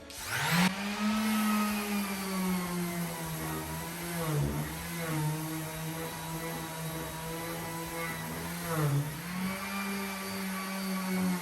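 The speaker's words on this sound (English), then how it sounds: "So we're just gonna sand this." A power sander runs steadily on painted wood being distressed for a farmhouse finish, giving a loud, continuous motor drone with slight dips in pitch as pressure shifts, and no talking.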